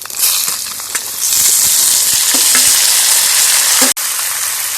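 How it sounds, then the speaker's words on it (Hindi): Cut pumpkin and potato fry loudly in hot oil with browned garlic and chillies, a bright close sizzle broken by stirring scrapes and knocks of a spoon against the pan. "अब इसे हम अच्छी तरह से चलाते हुए भून लेंगे"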